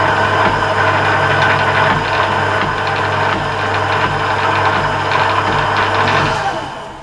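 An Emco lathe runs steadily through a light scratch cut on a thread, giving a loud, close, continuous motor hum with a rhythmic knocking pulse, then winding down at the very end; no speech.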